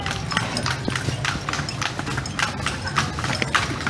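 A horse pulling a kalesa carriage through the streets of Vigan: steady, rhythmic clip-clop of hooves on pavement, close and clear, with light road and street noise beneath.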